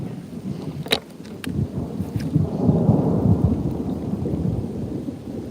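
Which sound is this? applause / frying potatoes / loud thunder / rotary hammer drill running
loud thunder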